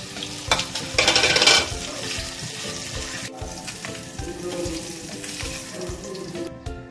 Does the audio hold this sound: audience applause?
no